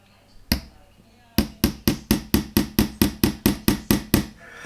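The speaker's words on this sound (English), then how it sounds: "the point of the pin has been driven into the wood a little bit" A pin is tapped into a wooden ship model, the Vanguard Models HM Sherbourne, with an improvised tool instead of a hammer: one sharp knock, a pause, then about a dozen quick, evenly spaced, close, crisp blows.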